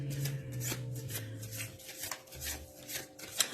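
Tarot cards shuffle and slide in soft, close rustling strokes with light papery flicks, quiet and continuous, with a faint hum in the background and no talk.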